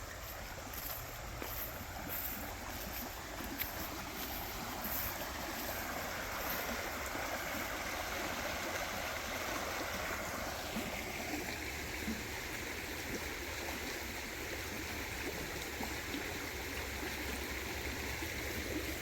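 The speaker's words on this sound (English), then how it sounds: "It's been raining today, so the creek's up." A rain-swollen creek rushes steadily and continuously nearby, a dense even roar of running water with no pauses and no voices.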